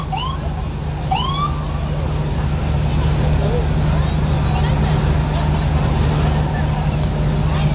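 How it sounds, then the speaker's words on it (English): A fire truck siren wails in rising sweeps near the start over a loud, steady low engine rumble that continues to the end, during a Christmas parade in Thunder Bay. "there is a fire truck with its lights and its sirens and the horn going"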